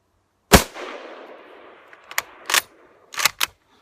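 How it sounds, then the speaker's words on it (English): Old military rifle fired with its bayonet fixed: one loud close shot followed by a long decaying echo, then several quicker, lighter clacks of handling or further reports. "Shooting with the bayonet on, as always with these old ones."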